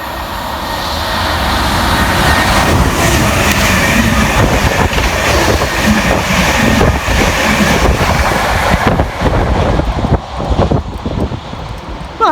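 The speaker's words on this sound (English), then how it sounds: "Next to fly through running 8 minutes late, 1P23 from Norwich to London Liverpool Street." Passenger train 1P23 from Norwich to London Liverpool Street roaring through a station on the Great Eastern Main Line at speed, a loud sustained rush of wheels and air that builds and then breaks into rattling wagon beats.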